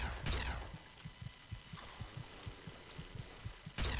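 Slow, steady thumping heartbeat from the low-health warning in the video game Fallout 3, a dozen or so soft muffled beats in an even rhythm under quiet game ambience, with brief brighter noise bursts at the start and end.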